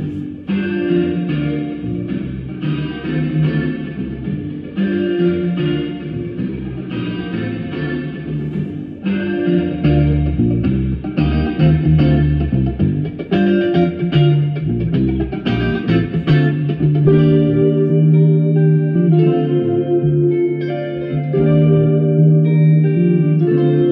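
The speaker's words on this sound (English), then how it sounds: "if you turn the chamber all the way up on each channel, you're just going to get the reverb" A sustained musical passage through a Master Room XL-210 spring reverb set fully wet, notes smearing into a washy, echoing tail with no dry sound, steady and fairly loud throughout.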